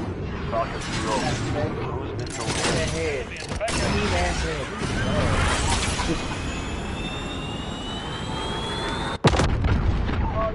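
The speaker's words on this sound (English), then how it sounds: "Cruise missile, ready." Gunfire and explosions from a cruise missile strike in a Call of Duty game, a chaotic stretch of blasts and bursts with rising whistling tones and a sharp loud crack near the end, voices talking over the action.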